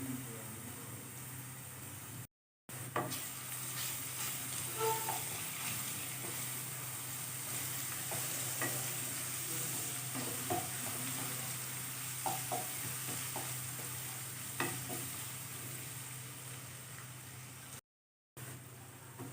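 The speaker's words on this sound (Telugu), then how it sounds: "అల్లం వెల్లుల్లి పేస్ట్ ఒక స్పూన్ వేసుకుని ఫ్రై చేసుకోవాలి" Ginger garlic paste frying in oil with browned onion pieces for a tangy prawn, drumstick and raw banana curry, a steady sizzle with occasional stirring scrapes and clicks, close and continuous with two brief gaps.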